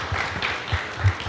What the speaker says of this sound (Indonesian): Kita kasih tepuk tangan yang meriah buat Tuhan.